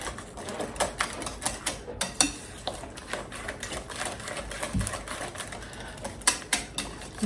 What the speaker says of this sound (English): this gives you a good opportunity to get a lot of that flour mixed right in with the whisk here